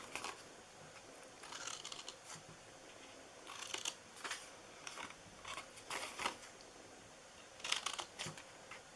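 Scissors snip away the glue tabs of a paper Easter gift box, making a few quiet, crisp cuts spaced out in short bursts, with no voices.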